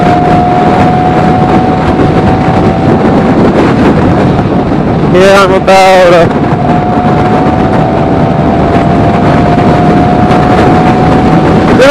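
A Genuine Stella scooter engine, a 2008 model, runs at high RPM over roaring wind buffeting on the open road, a loud steady drone with a short warbling rise in the middle and a rider speaking briefly.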